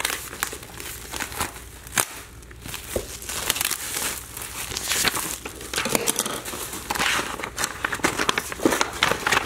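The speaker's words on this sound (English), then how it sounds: "I gotta bust open a new pack of envelopes here." Crinkling and tearing of plastic packaging as a new pack of shipping envelopes is ripped open, close and fairly steady with rustling bursts throughout.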